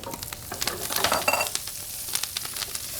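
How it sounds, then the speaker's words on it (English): Halved, washed Brussels sprouts dropped into a hot pan of bacon fat, crackling and sizzling close up with bright spattering pops that swell and then settle into a steady fry. "And into this pan, we're gonna take our halved washed Brussels sprouts."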